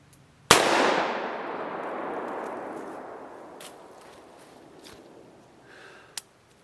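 A single sharp revolver shot fired outdoors with the muzzle out, a loud crack followed by a long decaying echo, then a few faint clicks and one small sharp knock near the end.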